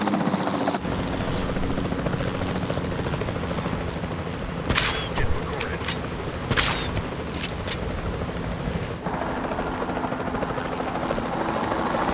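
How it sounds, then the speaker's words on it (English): A capture team helicopter in the game Jurassic World Evolution 2 thrums loudly and continuously, with several sharp tranquilizer-like shots cracking out in the middle of the rotor roar. "Then the sensible thing is to take a capture team helicopter."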